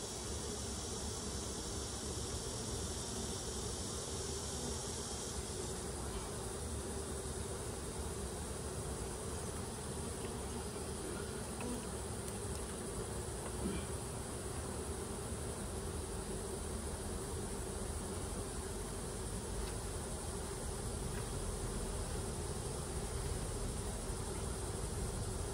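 Honey bees buzz continuously inside a nuc hive, forming a dense, even drone that holds steady for the whole stretch, close and full with no talking.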